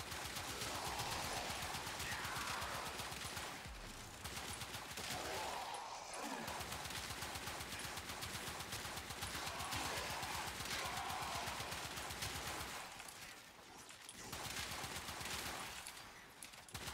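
Sustained automatic gunfire from the Knell Prime in the video game Warframe, a dense, continuous rattle of rapid shots running nearly the whole time, with a few brief pauses between bursts.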